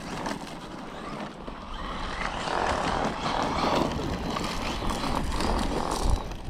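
A Traxxas Maxx Slash 6s RC truck running, its electric motor giving a continuous buzzing, rushing drone with slight surges, fairly loud and near throughout, with no one talking.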